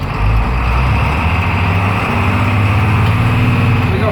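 Blue Bird school bus engine under way, a loud low diesel drone with steady rumble and a slight pitch change as it shifts gears.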